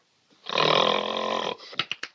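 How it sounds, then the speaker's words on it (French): An actor snores loudly in a famous scene from the French film La Grande Vadrouille: one long, rasping inhaled snore, then a quick run of short snorting puffs, with no talk. "une des scènes de ronflement les plus célèbres du cinéma français"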